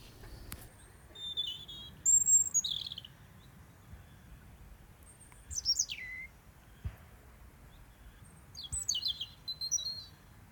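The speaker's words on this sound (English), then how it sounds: "birds are fully committed to the spring song" Birds sing in spring outdoors: three bursts of bright chirping and trilling phrases at moderate distance, with quiet pauses in between over a faint low background rumble.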